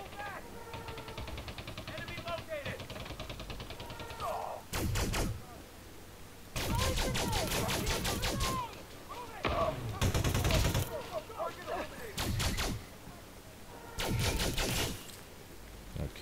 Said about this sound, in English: Someone got a grenade launcher.